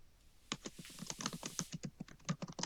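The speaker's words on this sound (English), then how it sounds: "you just type in exactly what you want it to say" Rapid, close-up clicking of fingers typing on a computer keyboard, a quick irregular patter of keystrokes that starts after a short silence and carries on alone.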